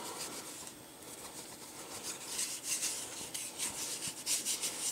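A light coat of silicone rubbed over a gun during cleaning, a soft, continuous scratchy rubbing that swells and fades in uneven strokes, close and fairly quiet.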